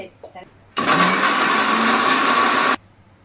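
A mixer grinder blends roasted cumin, shahi jeera, cloves and cardamom into masala paste for egg curry, a loud steady whirring roar that starts abruptly, runs about two seconds close by, then cuts off, with talk before it.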